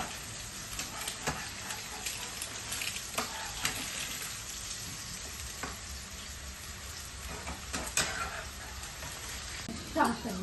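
An egg fries in hot oil with a continuous crackling sizzle. Scattered sharper pops and small spatters break through, and the sound stays fairly close and moderate in level with no voice over it.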